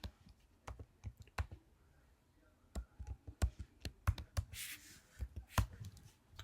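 Someone typing on a computer keyboard while working in Maya 2024 on a Windows machine, heard as quiet, irregular clusters of close key clicks, with a brief noisy rustle partway through.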